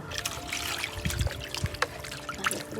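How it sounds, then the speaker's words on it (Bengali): Chicken meat being rinsed under water, a near, continuous splashing trickle with small sloshes and drips, no talking. "বন্ধুরা, প্রথমে মাংসটা ভালো করে ধুয়ে নেবেন।"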